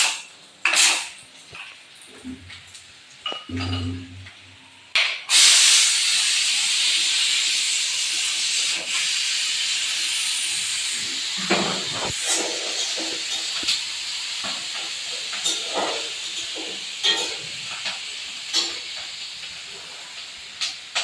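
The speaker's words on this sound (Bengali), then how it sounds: "ততক্ষণে আমি প্রেসারের হাওয়াটা বের করে দেবো।" A pressure cooker being vented: after a few kitchen knocks and clatters, a loud sustained hiss of escaping steam bursts out and continues steadily, with scattered clinks over it.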